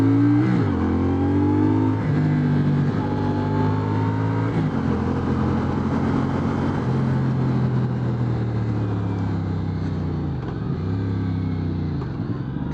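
A 2025 CFMoto CLC 450 motorcycle engine pulls while riding, rising in pitch through gears with revs dropping at each shift, loud and steady with no voices.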